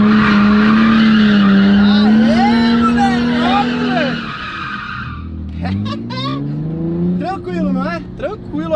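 A Nissan 350Z set up for drifting spins donuts with loud, close tire squeal wavering in pitch over the engine's drone, then dies back to shorter skidding bursts while people talk over it.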